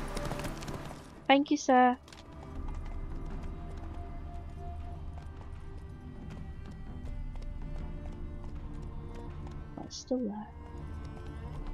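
Hoofbeats of Geralt's horse Roach from The Witcher 3, a soft clip-clop under a steady game soundscape, with someone speaking briefly near the start and again later over it.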